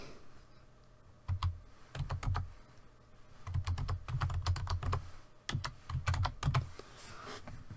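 Fingers type on a computer keyboard in irregular bursts of crisp, close key clicks separated by short pauses, with no talk.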